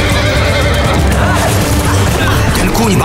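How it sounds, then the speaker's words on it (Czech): A horse neighs and whinnies loudly and close, with hoof clatter in a dense, noisy mix that stays at full level for the whole stretch, in a dramatic film about the racehorse Kincsem. "kůň?"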